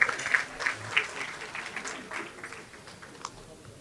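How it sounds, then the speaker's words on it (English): Audience at an awards ceremony applauds Rabbi Joe Potasnik: a dense round of clapping, strongest at the start with a few loud individual claps, gradually thinning out over a few seconds. "Let's give Rabbi Potasnik a round of applause"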